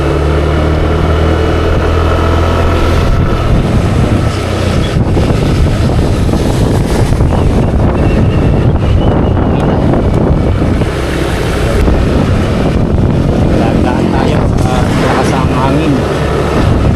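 Strong wind gusts during heavy rain on a trip back to Navotas, producing a loud, unbroken rushing roar with slight swells and buffeting against the microphone.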